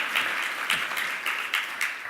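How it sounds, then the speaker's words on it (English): Audience applause at a Martin Luther King celebration held at Essex County College, a steady dense wash of many hands clapping at once, loud and close, with small rhythmic swells and no talking. "I think he deserves another round of applause, Mr. Richard Alston."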